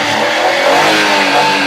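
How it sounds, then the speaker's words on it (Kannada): A 2008 Maruti Alto LX petrol car engine runs loud and close, holding a steady raised rev with an even droning hum for under two seconds. "ಇಂಜಿನ್ ತೋರಿಸಿ ಸಾ. ಇಂಜಿನ್ ಸೌಂಡ್ ಗಾಡಿ ಸರ್"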